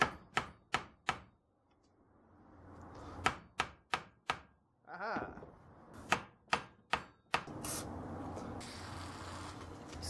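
Hammer taps on a Toyota pickup brake caliper piston, a series of sharp metallic strikes in pairs and short runs, loud and close, with a brief spoken exclamation in between.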